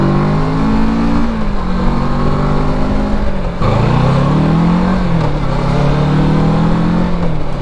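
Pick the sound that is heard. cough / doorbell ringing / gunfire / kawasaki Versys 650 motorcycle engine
kawasaki Versys 650 motorcycle engine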